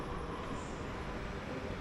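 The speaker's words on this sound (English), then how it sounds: "we see one of Morocco's classic loco-haul trains" A classic locomotive-hauled passenger train stands at a Moroccan station platform, giving off a steady, broad rumble and hiss of idling machinery that holds at an even level throughout.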